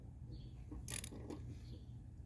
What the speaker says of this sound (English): I'm going to use my socket to tighten this up.